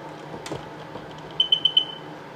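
A Sea-Doo XP DI personal watercraft's tether warning beeper gives three short, evenly spaced high beeps against a quiet background.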